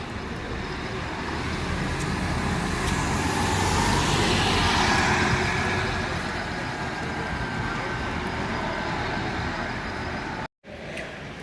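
Buses pass along a road in Gloucester, including a route 9 bus to Tuffley and a former Swindon bus. A steady, loud traffic roar swells and fades as the vehicles go by, then cuts out briefly near the end.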